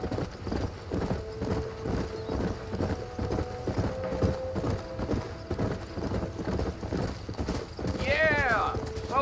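Horse hooves clip-clopping at a steady gallop through a Red Dead Redemption game world, close and continuous, with a short whinny near the end; a voice speaks briefly over the hoofbeats.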